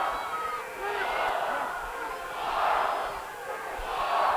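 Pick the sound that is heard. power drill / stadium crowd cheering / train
stadium crowd cheering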